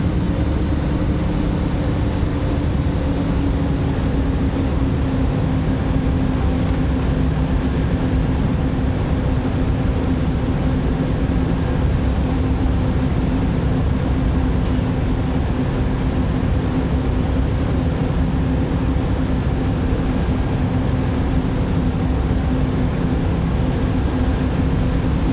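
An Antonov AN-225 cargo plane in flight in Microsoft Flight Simulator over South Africa gives a steady, loud engine drone with a low hum that holds unbroken throughout.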